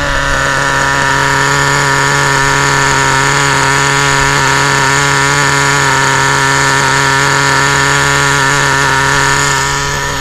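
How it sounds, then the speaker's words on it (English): A small high-revving engine of an HPI WR8 nitro RC car idles steadily and loudly during break-in, with a buzzy, constant drone and no pauses throughout. "Just something about a Nitro car, just when they're ticking over, they just sound so good"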